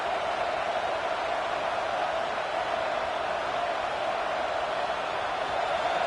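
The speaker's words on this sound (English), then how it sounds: "this crowd is fired up. Listen to this noise here." A steady, dense roar of a big football crowd, constant and undifferentiated, like a packed stadium murmuring and shouting at a distance.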